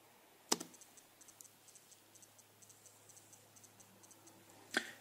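Keystrokes on a computer keyboard as a command is typed to run a TinyBasic program on an Arduino; a loud click opens and closes the run of soft, evenly spaced taps, fairly close with a quiet background.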